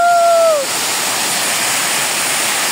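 Water rushes continuously at Tai Tam Reservoir in Hong Kong, a loud steady roar like a cascade, with a brief whistle-like tone fading out in the first half second.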